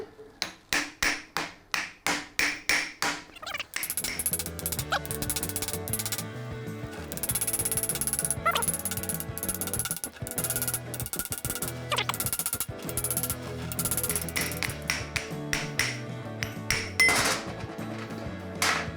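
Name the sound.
hammering ring gear off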